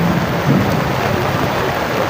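Steady rain falls outdoors during an Eke Ekpe gathering for the Ikeji Aro festival, making a dense, loud, even hiss with no break and no voices.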